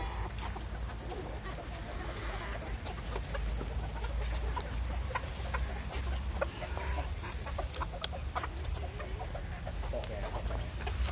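Imported ornamental breeding rooster and hens on a Thai farm, clucking in a steady busy chatter with occasional sharper calls, close and continuous throughout, with a low background rumble.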